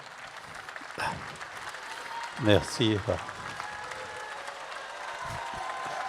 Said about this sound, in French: On l'applaudit, Jean-Philippe.